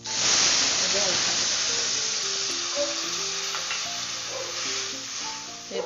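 Chuno fish simmering in tamarind water in a pan gives a steady, close hiss and sizzle that stays even throughout, with soft clinks and faint tones underneath.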